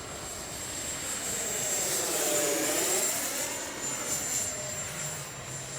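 Freewing F-22 RC jet flying overhead, its ducted-fan whine loud and steady as it sweeps past with a rising then falling Doppler pass, no talk over it.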